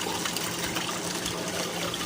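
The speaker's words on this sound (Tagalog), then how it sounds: "gumamit kami ng submersible pump dahil puno-puno itong tubig" Water from a submersible pump gushes and splashes steadily in a continuous rushing wash, loud and close, with no pause across the short stretch.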